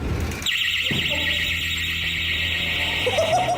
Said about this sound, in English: they set an alarm off after yanking open one particular door